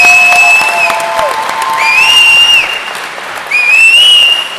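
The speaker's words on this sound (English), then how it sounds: "And you can hear the crowd showing their respect for this fight." A fight crowd at a combat sports event applauds and cheers, broad roaring clapping with shrill whistles rising over it, loud and sustained from a large audience.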